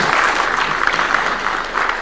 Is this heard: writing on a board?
no